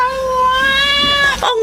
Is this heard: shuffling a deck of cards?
no